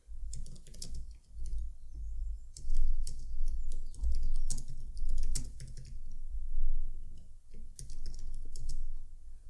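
Steady, rapid keystrokes on a computer keyboard, close and continuous for several seconds, with small irregular pauses in the rhythm.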